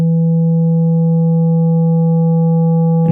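A Yamaha Reface DX FM synth holds a steady, pure pad tone, loud and unchanging for about three seconds before a brief glitch at the end.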